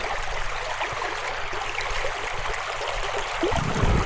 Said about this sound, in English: This is the creek I want to show you.